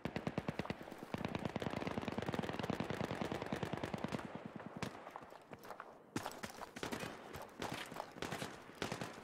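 Rapid automatic gunfire from Battlefield 3 with the Reality Mod, sustained bursts of evenly spaced shots, loud and close, pausing briefly before resuming, with a few scattered single cracks between bursts.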